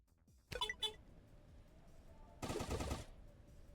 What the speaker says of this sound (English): I was expecting the SMG to be a little easy to use than that